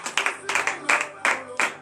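Rhythmic hand clapping from a congregation during a morning prayer service in Benin, about six sharp bursts of claps in steady succession, close and fairly loud.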